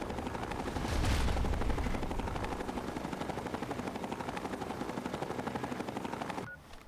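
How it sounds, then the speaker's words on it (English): Minigun spooling up in Fallout 3, a loud steady mechanical whirring that swells near the start and holds as a continuous dense rattle for several seconds before cutting off abruptly near the end, with no talk. "That sounds like a minigun being spooled up."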